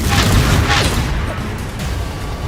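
A Confringo blasting spell detonates during a duel in Hogwarts Legacy, two loud booming bursts close together at the start, then a rumbling decay with scattered crackles.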